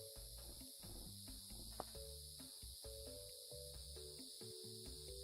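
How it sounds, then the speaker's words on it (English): Cicadas droning in the ambient soundscape of the video game Vintage Story, a steady high buzzing held for the whole stretch over a low, layered game background. "Oh my gosh, the cicadas have to go."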